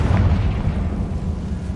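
A Confringo blasting spell from the Hogwarts Legacy video game goes off in a loud, low booming explosion that rumbles on for under two seconds.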